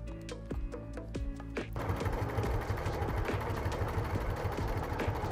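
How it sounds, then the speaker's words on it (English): Sewing machine free-motion quilting a jacket, starting with a few separate stitch thumps and then settling into a fast, steady stitching run, close and fairly loud. "So I free motioned the quilting on my jacket."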